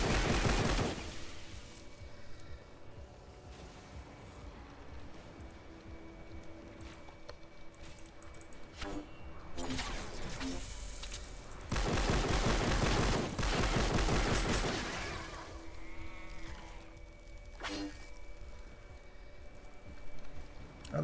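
Rapid bursts of gunfire from the video game Fortnite Save the World rattle in a dense, continuous stream with a few louder flurries, set against a busy game soundscape at moderate level.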